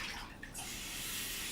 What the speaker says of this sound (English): I've got a nice little sink. Hang on, and just let me just get more clean water.